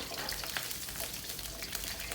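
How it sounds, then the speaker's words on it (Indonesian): Garlic, shallots, red chilies and bird's eye chilies half-frying in oil give a steady, dense sizzle and crackle, close and continuous, with no talking. "Lalu kita juga akan menggoreng setengah matang bawang putih, bawang merah, cabai merah, dan cabai rawit."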